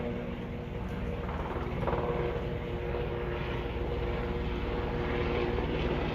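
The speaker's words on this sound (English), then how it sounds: "No, that's the Southwest plane." A Southwest passenger airplane passes overhead with a steady, broad engine roar that stays loud and even throughout, with no voices.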